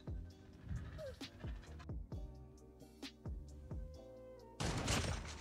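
Shotgun blasts from a KRM 262 in Call of Duty multiplayer, several sharp booming shots spaced through the match amid game sound effects, ending in a loud burst of noise.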